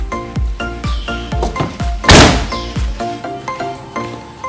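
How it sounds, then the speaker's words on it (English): A car's rear hatch being opened by its touchpad, with a run of dull thunks and mechanical knocks, one loud sharp clack in the middle, heard close and clear with no talking. "Open up the rear hatch, locate the touchpad and open it right up."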